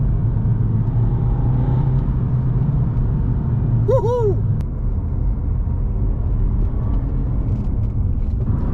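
A turbo diesel Alfa Romeo of about 170 horsepower drives with a steady, loud rumble and road noise from inside the cabin, while someone briefly cheers partway through.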